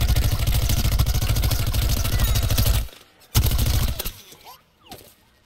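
Rapid gunfire from the video game Plants vs. Zombies: Garden Warfare pounds loudly and steadily for about three seconds, breaks off, then returns in a few shorter bursts and scattered shots.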